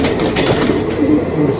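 Pigeons cooing inside a pigeon loft, soft throaty coos close by amid rustling and light background voices.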